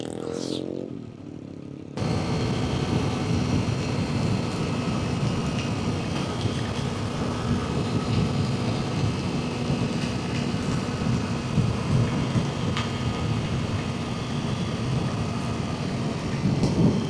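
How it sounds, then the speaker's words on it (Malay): Heavy rain pours during a ride on a Kawasaki Z250 motorcycle, a loud, continuous roar of rainfall and wind that starts abruptly and holds steady, with engine rumble underneath. "Kita ride dalam hujan."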